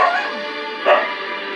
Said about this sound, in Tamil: நாய் வேற.